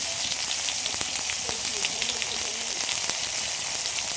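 Cumin seeds and tomato sizzle in hot oil as the base for a fish curry made with freshly caught country fish, a close, busy crackle scattered with sharp little pops that never lets up.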